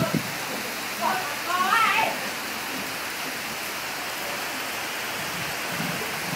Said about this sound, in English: When it rains, it pours.